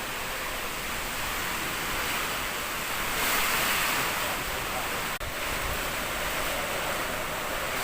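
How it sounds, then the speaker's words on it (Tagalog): Strong typhoon wind roars continuously into the microphone, a dense rushing noise with a slight swell midway and no voices. "Ang lakas po ng hangin"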